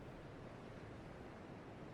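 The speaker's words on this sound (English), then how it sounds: "A place where the waves crash endlessly against the shore." Ocean waves wash steadily against the shore in the video game Dark Souls 2, a soft, continuous, faint roar of surf with no voices over it.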